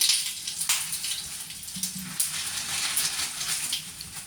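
Cumin seeds and dried chillies sizzle in hot oil, giving a soft, steady crackling hiss with small spitting pops at a fairly faint level, with no voices.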